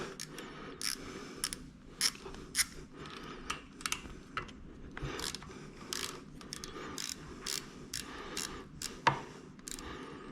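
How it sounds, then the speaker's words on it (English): Ratchet or wrench clicking as two 8mm screws are undone on a Honda CRF50 carburetor, quick bursts of metallic ticks in irregular runs, close and fairly faint, with no talking. "Now you can just do these two 8mm screws."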